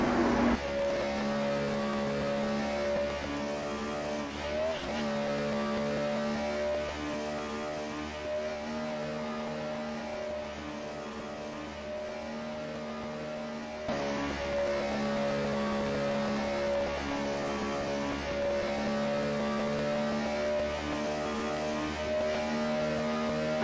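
Stock cars racing nose to tail during a Winston Cup race at Darlington: a steady, droning engine roar with a strong tonal whine that holds unbroken throughout, at moderate volume and with no break in the pack.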